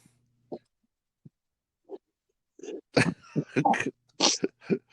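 Several short coughs and throat-clearing bursts, close and isolated at first, then a quick cluster of harsher coughs near the end.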